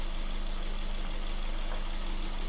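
A Honda engine idles steadily with its MAF sensor disconnected, a constant low mechanical hum with an even, unchanging pitch and no rise or fall in speed.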